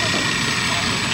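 A small RC boat electric motor spins counterclockwise at close range, a continuous high buzzing hum with a low rumble underneath.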